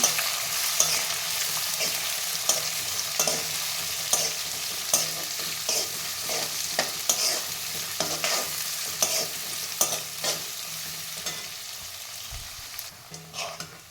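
Onions sautéing in a pan for wheat rava upma, a steady close sizzle broken by frequent scraping clicks of a spoon stirring, with no voices.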